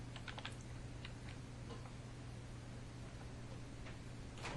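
A computer keyboard clicks in a short, quiet run of keystrokes while a login password is typed, then goes still, with a few more taps at the end over steady background hiss.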